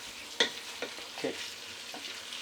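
Chicken and chorizo pasta with sauce cooking in a pan, a soft close sizzle punctuated by several light scraping stirs of a utensil against the pan.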